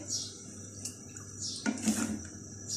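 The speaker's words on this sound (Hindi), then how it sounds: "जिस बॉल में चिकन की मैरिनेशन की थी उसमें ही मैंने 1 कप पानी लिया है और ये पानी हम इसमें डाल देंगे" Water from a marinade bowl poured into a pot of chicken, a short splashing gush in the middle of the clip, with light clinks of the bowl against the pot before and after in a quiet kitchen.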